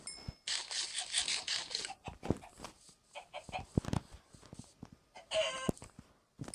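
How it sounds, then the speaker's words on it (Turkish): Video game chickens cluck in quick, bright bursts, with sharp clicks and short pauses between them, fairly close and alone. "Oh tavuklar var burada."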